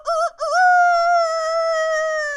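A person imitating a rooster's crow, with two short clipped bursts followed by a long sustained, tonal call held steadily to the end, loud and close with no other sound.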